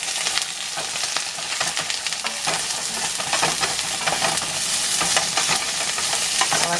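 Food for a meal prep fries hard and is stirred in a pan as it dries out, a loud continuous sizzle with scraping strokes throughout, no voices.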